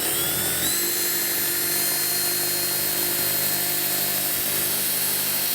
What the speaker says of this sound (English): I want to drill a hole through both